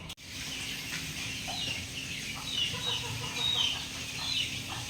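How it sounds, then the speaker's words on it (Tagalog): Backyard chicks chirp in a steady stream of small high calls, with clucking fowl mixed in against a low outdoor rumble. "Yan ang ating mga sisiw mga kabakard"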